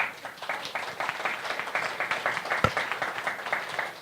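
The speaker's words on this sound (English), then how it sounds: "Let's give them a round of applause," Audience applause at an event, with fairly quick, uneven clapping from a small crowd at moderate level and one sharp loud clap near the end.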